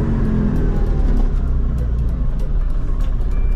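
The small engine of a Microcar Dué Must Progress microcar drones steadily from inside the vehicle at about 50 km/h, with constant low rumble and road noise while driving.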